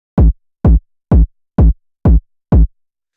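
Six punchy, distorted techno kick drum hits saturated with the HOFA System saturator, at a steady pace, each with a heavy low thump and a short gritty tail, played alone.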